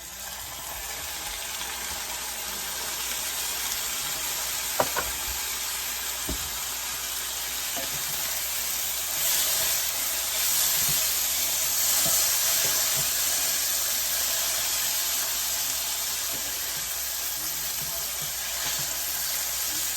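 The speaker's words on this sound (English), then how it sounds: "So I'm going to add the beans." Beans go into a pan of onions and sizzle in a steady, fairly loud frying hiss for a quick weeknight dinner, with a few light clinks and stirring taps along the way and no talking.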